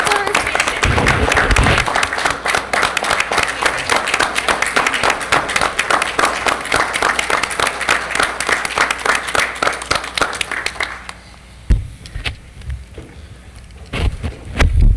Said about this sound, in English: I think we should give them a round of applause for all that they do.